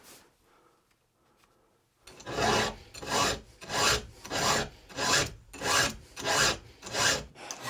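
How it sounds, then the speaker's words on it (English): A file rasps across a chainsaw chain in steady back-and-forth strokes, about ten even, loud passes close by with no talk, after a quiet start. "filing from the other direction"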